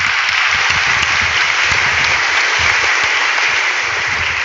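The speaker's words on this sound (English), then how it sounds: "let's give it a round of applause to all the amazing things that you have done." Applause from a keynote audience at a tech platform event fills the clip as a dense, steady wash of many clapping hands, loud and unbroken.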